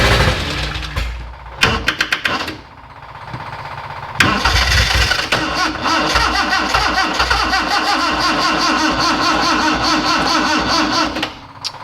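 Freshly built Morris Minor car with no oil pressure cranks in short stuttering bursts, then a long sustained cranking run that churns steadily without catching, close and loud.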